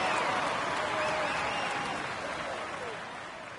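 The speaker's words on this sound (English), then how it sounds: "let's applaud him once more" A large crowd applauds in a dense, continuous wash of clapping and cheering voices that slowly fades a little, in a Tour de France video game stage finish.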